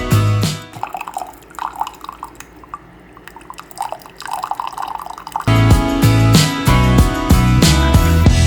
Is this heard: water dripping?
yes